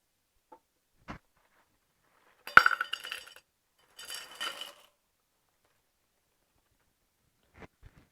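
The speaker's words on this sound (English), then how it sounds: "I'm going to put the ice on the other side" Ice cubes drop and clatter into a glass cocktail shaker in a few short, bright bursts, with sharp single clinks of glass before and after, close up in a quiet room.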